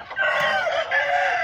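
An Asil-cross rooster crows once, a loud, close, drawn-out call lasting over a second.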